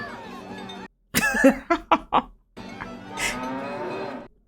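A cow moos in a movie soundtrack, several short, loud, throaty lowing bursts in quick succession, followed by a longer moo under voices in the background.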